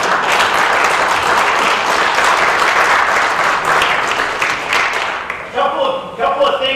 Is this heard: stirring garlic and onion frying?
no